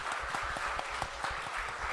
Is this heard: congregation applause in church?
yes